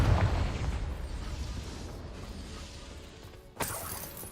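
Confringo spell blast in Hogwarts Legacy, a loud explosive burst at the start that rumbles and fades over a few seconds, then a sharp shattering crack near the end.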